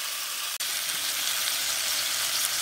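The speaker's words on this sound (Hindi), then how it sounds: "मसाले को हम तेल छोड़ने तक भूनेंगे कम से कम 5 से 7 मिनट तक मीडियम फ्लेम पे" Ground masala paste with chopped tomato frying in oil over a medium flame while cooking jackfruit curry, a steady close, bright sizzle that holds evenly throughout with one brief dip.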